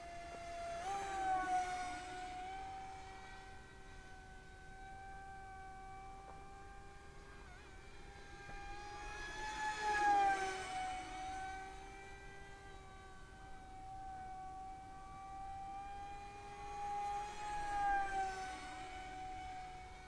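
An Arrows Viper 50mm EDF 774mm RC jet with a pusher prop mod flies past in repeated passes, its high whining tone rising and falling with Doppler sweeps as it comes close and recedes.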